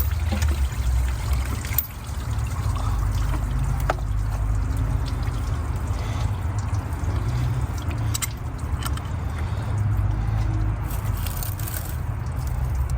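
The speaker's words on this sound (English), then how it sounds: "I didn't think it was gonna drip coolant" Coolant drips and trickles from a Lexus ES 300 engine during a knock sensor replacement, a steady watery trickle running continuously under broadband noise, with a few faint clicks.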